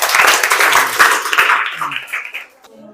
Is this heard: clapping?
yes